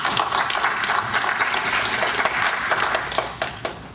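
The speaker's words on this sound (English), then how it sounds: "Please give him a round of applause." Audience at an afternoon academic session gives a steady round of applause welcoming a speaker, a dense wash of many hands clapping throughout, fairly loud and without talk, thinning slightly at the end.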